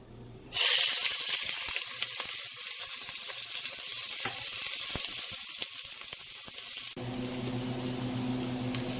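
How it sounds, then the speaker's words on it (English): Onions hit a hot cast-iron skillet with a loud sudden sizzle that settles into steady frying, then quietens to a lower crackle near the end. "my first step is going to be caramelizing the onions"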